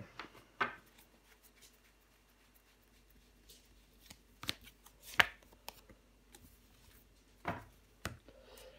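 Tarot cards laid down and handled during a reading, scattered soft slaps and papery shuffles with quiet gaps between them, close and fairly faint, no talking.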